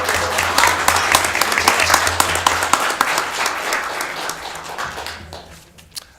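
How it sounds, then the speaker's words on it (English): Audience applause at a city council meeting, dense steady clapping from a room of people that gradually thins and fades toward the end. "Another round of applause for Amy Sanchez, Lewiston leader"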